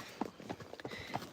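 Hooves of a ridden Friesian horse clip-clop in a steady rhythm of several close, distinct strikes, with no voices.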